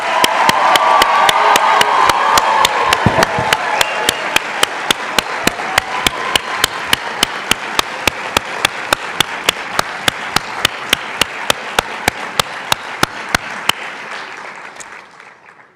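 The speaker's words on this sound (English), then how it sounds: "One more round of applause." Steady audience applause at a college of nursing white coat ceremony, a full crowd clapping for about fifteen seconds, thinning near the end to a few even claps from one nearby clapper before it fades out.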